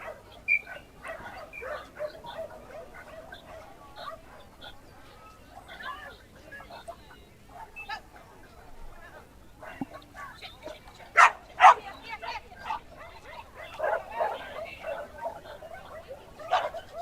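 Dogs at an agility nationals competition ring, scattered yips, whimpers and barks, some sharp and close, over crowd murmur and a commentator talking throughout.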